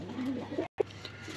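A flying pigeon bred from a cross of Mian Nazir's birds, giving soft low coos close by, a short murmuring call broken by a brief dropout and followed by one more coo, with no speech.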